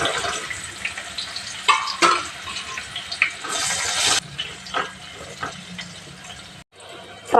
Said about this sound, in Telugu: డీప్ ఫ్రై చేసుకుందాం.